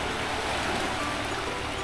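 Sea waves wash below beach cottages at a river-and-sea resort near Agos River in Infanta, Quezon, a steady, broad rushing surf that fills the short stretch with no voices.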